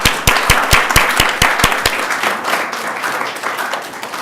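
An audience applauds community poets at a Maya Angelou celebration, opening with a few sharp, distinct claps and then settling into a steady, softer round of clapping.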